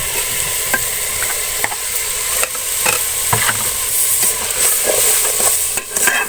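Mashed roasted brinjal bharta goes into a pan of lightly fried onions and is stirred, with a steady close sizzle and frequent sharp spoon scrapes and taps against the pan.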